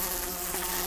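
A housefly buzzes with a continuous droning hum, close and steady for under a second, with no voices.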